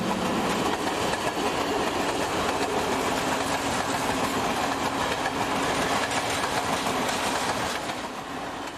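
MÁV M41 diesel-hauled passenger train bound for Budapest passes at Balaton-Rendes, a steady close roar of engine and rolling wheels with faint clickety-clack, easing slightly at the end.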